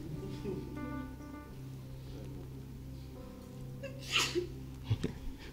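A single sharp sneeze bursts out about four seconds in during a French church sermon, followed by a short sniff, over a steady background hum with a sustained tone.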